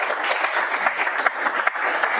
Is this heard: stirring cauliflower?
no